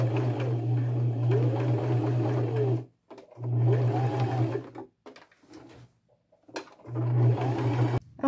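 A sewing machine hums steadily while stitching the top of an upcycled boho backpack, running in long loud stretches broken by brief stops and quiet gaps.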